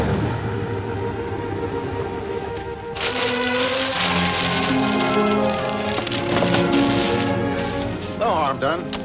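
Steady rain patters throughout a scene in a 1955 film, with tonal music and voices layered over it.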